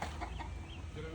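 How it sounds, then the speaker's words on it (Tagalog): Chickens cluck close by near a vegetable garden, short soft clucks over a steady low background rumble. "Mga manok."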